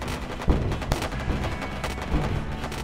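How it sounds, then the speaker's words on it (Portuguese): Ship cannons firing in the space game Wayward Terran Frontier: Zero Falls, a dense run of loud gunfire blasts with sharp reports near 0.5, 0.9 and 2.1 seconds over continuous rumbling battle noise. "Ele atira até que bem com esses canhão"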